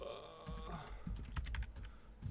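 A computer keyboard sits in an awkward spot and fingers tap out a quick burst of keystrokes. The clicks come in irregular clusters, close but quiet, over a faint background murmur.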